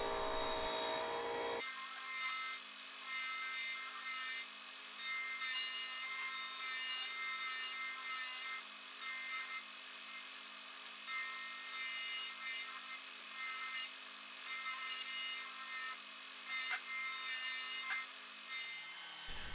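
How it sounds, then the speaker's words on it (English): Wooden swimbait blank, shaped like an injured crucian carp, having its edges chamfered on a disc sander: a steady, continuous gritty abrasive hiss with small fluctuations as the wood is pressed and turned, running alone for nearly twenty seconds. "I'm going to start by doing chamfers around the bait with my disc sander."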